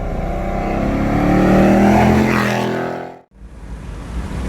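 Ford Mustang with a 5-litre engine and 10-speed transmission revving up, the engine note swelling loud and close before cutting off abruptly, then a lower rumble resuming.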